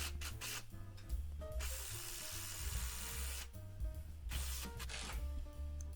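Power drill driving screws into a wooden scratching post base, with repeated bursts of whirring motor and ratcheting clicks, separated by short pauses, heard up close.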